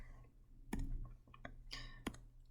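Keystrokes on a computer keyboard while entering formulas into Desmos: a handful of sharp, separate clicks spread unevenly over a couple of seconds, close and quiet against a low background hum.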